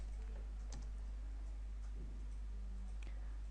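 Keys tapped on a computer keyboard, a few scattered soft clicks at an irregular pace over a low steady hum.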